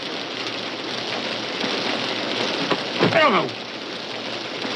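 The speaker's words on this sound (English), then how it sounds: "I said the rain on the roof is lovely to hear." Steady rain drumming on a roof, a dense continuous hiss heard indoors, with a brief voice cutting in near the middle.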